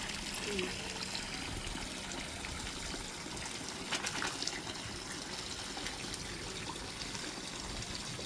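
Water runs from a tap in a continuous steady gush, close and fairly faint, with a short faint burst partway through.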